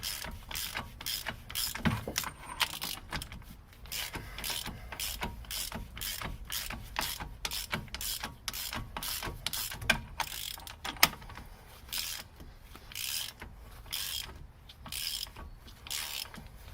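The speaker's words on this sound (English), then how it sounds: "let me put a little more torque on this axle nut" A ratchet tightens the axle nut on a 2008 Opel Astra during an axle replacement, clicking in rapid, continuous bursts close to the microphone with brief pauses between strokes.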